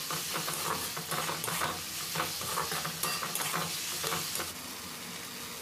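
A spoon stirring potol and potato curry in a pan, with a steady scraping, shuffling rhythm over a continuous sizzle of frying, close and fairly loud throughout.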